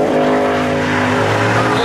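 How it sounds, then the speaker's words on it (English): A pickup truck does a burnout at a spectator drag race, its engine roaring loud and close with steady harmonic drone and tire squeal throughout, crowd noise faint underneath. "I think they're doing a burnout."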